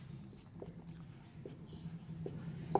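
Pen writing by hand on paper during a chemistry lesson, a faint scratchy scribbling in short strokes over a low room hum, close and quiet with no talk.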